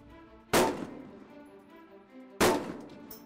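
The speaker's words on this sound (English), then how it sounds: "Secure your first 20-round magazines. 2 rounds in each target from the prone position, supported." Two loud rifle shots fired at targets from a prone, supported position on an army range, each a sharp crack with a short ringing tail, about two seconds apart.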